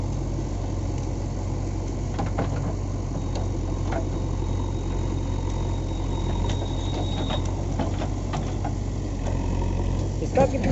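The engine of a JCB 3DX backhoe loader, a four-cylinder of roughly 90 horsepower, runs steadily with a low, continuous rumble and scattered clanks and clicks close by.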